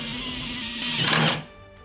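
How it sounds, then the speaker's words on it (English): A power drill bores through the joint between two sheets while building a grave surround memorial, a loud whining grind that rises, peaks, then stops abruptly, leaving near silence. "Drill bit's taking a beating."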